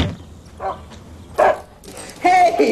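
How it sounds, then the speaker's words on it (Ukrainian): A dog barks, yips and whimpers in short bursts, nearby and fairly loud, amid a tense scene in an action film. "Точніше, мій колишній собака."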